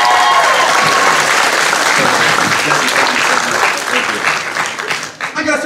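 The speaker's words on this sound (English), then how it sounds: "Round of applause for Jesse, please." An audience bursts into loud, continuous applause for a speaker at a live front-row college talk event. The clapping is full and steady, then thins toward the end as talk starts in the room.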